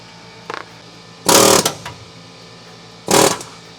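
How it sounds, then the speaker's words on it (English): Two loud bursts of rapid air-hammer pounding on the body metal of a 1969 Ford Mustang, about a second and a half each, preceded by a brief short rattle. "So now I'm just going to go in with the air hammer and then to try and just remove that."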